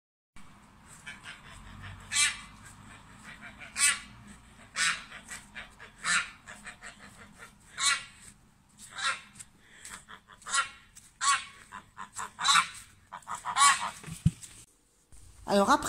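Geese honk repeatedly in a farmyard poultry yard, with loud, harsh, overlapping calls in uneven bursts. The birds sound fairly close, over a quiet background.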